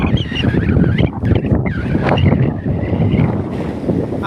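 Strong wind gusting outdoors, a loud, steady rush that buffets the microphone and fills the whole clip with no speech.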